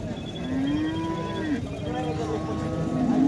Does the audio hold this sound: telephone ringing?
no